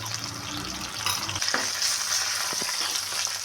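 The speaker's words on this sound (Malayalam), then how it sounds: "ഈ പാവയ്ക്ക ഇട്ടൊന്ന് വഴക്കണം" Bitter gourd sautéing in a pan with curry leaves, turmeric and salt for a pickle, giving a steady close sizzle with a few stirring clinks and scrapes.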